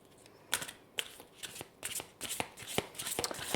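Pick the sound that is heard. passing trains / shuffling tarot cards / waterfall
shuffling tarot cards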